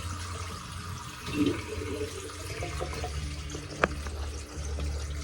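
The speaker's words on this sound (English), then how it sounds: "And then we're going to run some more cold water." Cold water runs from a kitchen tap into a sink with a soft, steady rush at moderate level. There is a brief splash partway through and a sharp clink near the end.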